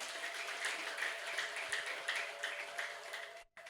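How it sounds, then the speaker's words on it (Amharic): Church congregation clapping together for the Lord, a dense steady wash of many hands applauding at moderate distance, with a brief drop near the end. "እስቲ አጨብጭቡ ለጌታ ክብር።"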